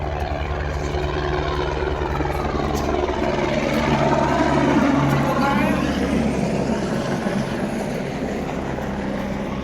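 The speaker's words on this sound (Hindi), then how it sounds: "ये देखो वाह भाई, हेलीकॉप्टर पे हेलीकॉप्टर हेलीकॉप्टर" Helicopters flying at Kedarnath make a steady, loud rotor and engine drone that holds throughout, with a low rhythmic throb underneath and a voice speaking over it.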